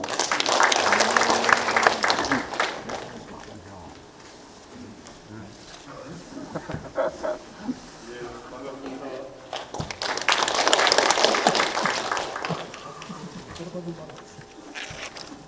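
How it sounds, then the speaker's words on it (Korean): Audience at a Korean public hearing on a national park applauding the county governor, with two bursts of clapping separated by a quieter stretch of shuffling and voices. "여러분의 큰 박수 부탁드립니다"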